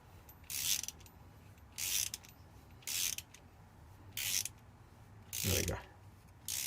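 A bolt being re-threaded by hand with a tap and die kit, giving five short bursts of ratcheting clicks roughly a second apart, close by, with quiet pauses between turns.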